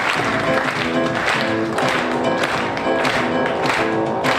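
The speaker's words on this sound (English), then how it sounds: "Come on, everybody, let's get those hands clapping" Audience clapping along at a Christmas 2017 show by performer Leo Shavers, a dense steady wash of many hands over loud ongoing music.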